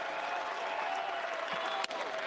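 Baseball crowd at a Chapel Hill super regional game between North Carolina and Arizona, a steady broad roar of cheering and applause filling the stadium with a brief sharp spike near the end.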